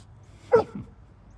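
A dog lets out one short, loud bark up close while waiting for treats, followed by a softer trailing huff, with no voices.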